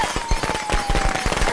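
Firecrackers in the Friday the 13th video game pop off in a fast, crackling string of sharp bursts under a steady tone, close and continuous throughout.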